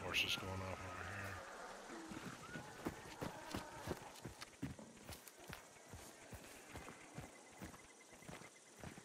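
A horse running in Hunt: Showdown, set in 1896, a rapid rhythmic series of hoof thuds that starts and carries on steadily at moderate distance, alongside other game sounds.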